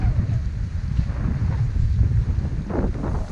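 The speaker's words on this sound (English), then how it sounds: "it is really cold and really windy right now" Strong, cold winter wind at Sunfish Pond on the Appalachian Trail, roaring as loud continuous buffeting against the microphone with gusts rising and falling throughout, with no talking.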